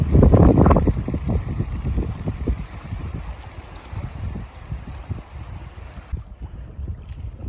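Strong gusty wind buffets the microphone on a lakeshore in Algonquin Park during a spring canoe trip, with a loud rumbling blast at first that eases into steady roaring noise, and no talk.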